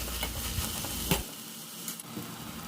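Onions and tomatoes softening with a little salt in a covered pan, giving a steady close sizzle with a brief stirring clatter partway through and no talking.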